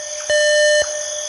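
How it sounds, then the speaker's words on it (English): An electronic alarm tone rings steadily, a bright sustained pitch that holds for about half a second before cutting off, over a constant high hum. "Suddenly, the alarms warn"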